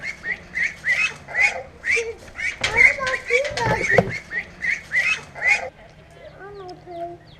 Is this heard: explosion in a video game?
no